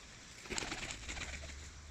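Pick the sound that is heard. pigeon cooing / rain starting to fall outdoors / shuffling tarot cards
pigeon cooing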